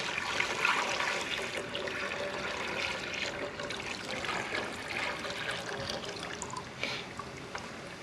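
Maple sap from a one-gallon pour goes into a boiling pan on a Vermont Evaporator Company evaporator, making a steady hissing, bubbling wash of liquid sound that holds fairly constant and close for the whole stretch.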